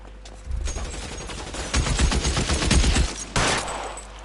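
Bursts of gunfire in the video game L.A. Noire Remastered during a police shootout. Several short, loud volleys sound at close range, separated by brief pauses.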